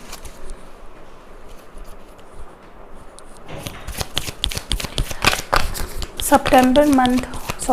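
Tarot cards are shuffled by hand in quick, rapid riffling bursts that start after a quiet moment and grow louder and denser, while a voice speaks over the later part.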